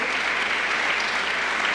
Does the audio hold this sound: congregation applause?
yes